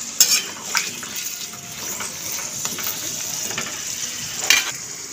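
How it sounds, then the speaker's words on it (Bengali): Small potatoes frying in oil with a splash of turmeric water, a close, steady sizzle with sharp metallic clinks of a spoon stirring against the pan. "তেল দিয়ে আর জল দিয়ে ভালো করে সেদ্ধ হয়ে যাবে আর ভাজাও হয়ে যাবে একদম লাল লাল করে"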